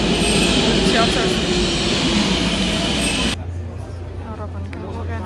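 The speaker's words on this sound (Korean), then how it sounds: "지하철." Subway train in Brussels, Belgium, with a loud steady roar of rolling wheels that drops abruptly to a quieter low hum partway through.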